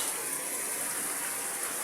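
Deep floodwater flowing past, a steady broad rushing hiss, close and constant, with no voices.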